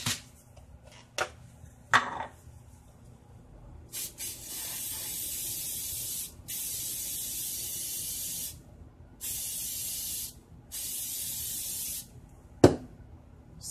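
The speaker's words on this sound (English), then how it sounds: "I am going to go ahead and automatically spray this" Several bursts of aerosol sealant hiss onto a floral bling wine glass, each lasting one to two seconds with short pauses between, close and fairly loud, with light clicks and handling noises around them.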